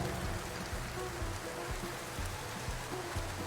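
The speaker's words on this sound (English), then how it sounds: "Except for the rain." Rain falling in American Truck Simulator around Seattle, Washington, near a bridge: a thick constant patter and hiss of drops, close and steady, with small irregular taps on top.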